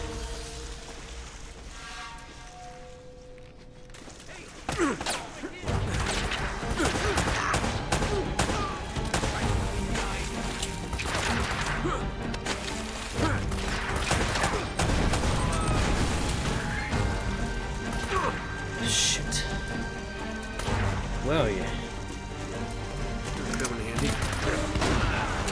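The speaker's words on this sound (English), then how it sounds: "they come out from behind with shotguns" Shotgun fire in Uncharted: Drake's Fortune during a fortress fight, with heavy blasts, crashing impacts and bursts of gunfire over a dense, loud backdrop after a quieter opening of a few seconds.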